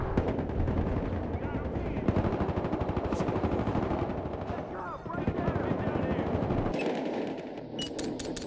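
Rapid machine-gun bursts and scattered gunshots from a Battlefield Hardline multiplayer match, loud and nearly continuous, with a sharp sequence of isolated shots near the end.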